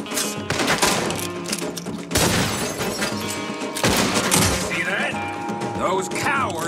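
Gunfire in a Red Dead Redemption 2 shootout, dense volleys of loud bursts and scattered shots over continuous action noise, with shouting voices at times.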